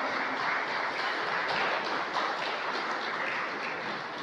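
Applause from a congregation at a Spanish-language church service, greeting a brother's birthday; a steady, dense wash of many hands clapping fills the space without a break, fairly loud and continuous.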